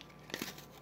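Packaging for a Samsung memory card torn open by hand, a brief faint crinkling rip lasting a split second.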